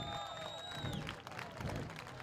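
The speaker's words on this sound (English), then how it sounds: "As he climbs out of the car, a round of applause." A speedway crowd at Owosso Speedway applauds a Street Stocks race winner in victory lane, a faint, distant patter of clapping under a steady wash of background noise and a fading tone.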